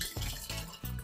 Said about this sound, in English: Now that our smoothie is nice and blended, we are gonna pour ourselves a nice glass.